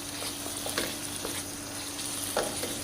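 Chicken frying in a pan with oil and ghee, a steady close sizzle with a few soft stirring clicks and scrapes, no talking.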